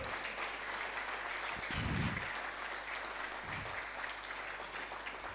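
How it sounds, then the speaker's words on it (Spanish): A church congregation applauds at a worship service, a steady wash of clapping heard at a moderate distance, with a low rumble and brief thumps underneath. "Denle un aplauso al Señor Jesús"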